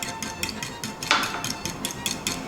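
Batter of melted chocolate and sugar being stirred in a bowl for a Passover cake, a brisk regular clinking and scraping of utensil against the bowl, close and fairly loud, with no one talking.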